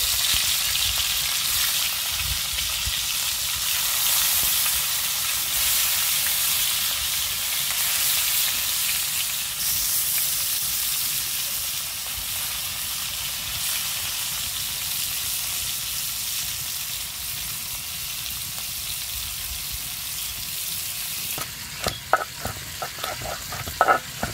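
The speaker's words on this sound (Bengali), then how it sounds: "এখানে মাছটা ভেজে নেব, তেল গরম হয়ে গেছে।" Pieces of rohu fish sizzle loudly and steadily in hot oil in a pan for a long stretch, a dense, even hiss with a few utensil clicks near the end.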